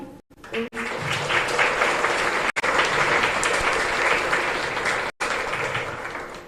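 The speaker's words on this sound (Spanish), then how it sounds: "un fuerte aplauso por favor" Loud, sustained applause from a congregation inside a chapel during a live service, a thick continuous wash of many hands clapping close and full, broken by a few sharp momentary dropouts.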